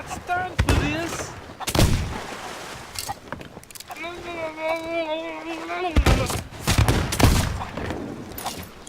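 Gunfire and cannon blasts in a pirate ship battle, several sharp loud booms scattered through the clip, mixed with shouting voices and a sustained sung or called tone in the middle.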